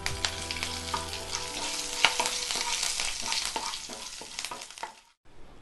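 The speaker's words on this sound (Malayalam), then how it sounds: "ഇനി ഇതിലേക്ക് ജീരകം ചേർത്ത് കൊടുക്കാം. അതേപോലെ തന്നെ അല്പം കറിവേപ്പിലയും കൂടെ ഇട്ട് കൊടുക്കാം." Cumin seeds and curry leaves sizzle loudly in hot oil for a curd rice tempering, a crackling, spattering fry with a few stirring clinks that cuts off abruptly near the end.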